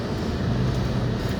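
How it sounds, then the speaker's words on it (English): Exhaust note of a 2006 Cadillac DTS, a low, steady rumble held evenly through a brief idle or light-throttle moment, with no voices. "only so you can hear the exhaust note"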